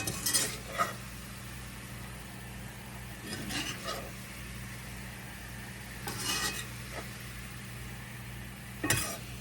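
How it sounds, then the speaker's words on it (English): Cooked ground beef being scraped and stirred out of a frying pan into a dish, with a few short clattering bursts of utensil against pan spaced several seconds apart over a low steady hum. "I'm going to remove it from the pan and just put it into a dish here"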